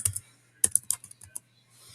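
Keys typed on a computer keyboard while entering text in a drawing program, a quick burst of clicky keystrokes followed by a few scattered taps and a pause, close and fairly quiet.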